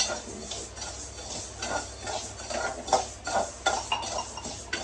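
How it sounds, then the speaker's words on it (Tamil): Mustard seeds being stirred and roasted in a pan while grinding chilli powder for kuzhambu, with light scraping and clinking of a spoon against the metal pan, soft irregular taps and rustles at close range. "கடுகு வறுத்துக்கலாம்"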